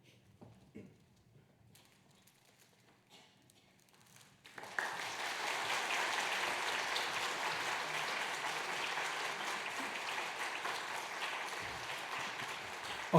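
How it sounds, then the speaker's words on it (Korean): After a quiet stretch with faint rustling, a Sunday church congregation bursts into loud, sustained applause that holds steady to the end. "큰 박수 부탁드립니다"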